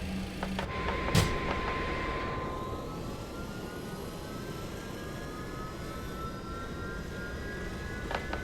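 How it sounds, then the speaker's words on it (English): Number 3 jet engine of an LTU MD-11 starting up in a flight simulator at Punta Cana, a steady rumbling roar with a slowly rising whine, punctuated by a few short clicks and thumps. "we'll commence engine 3 start now"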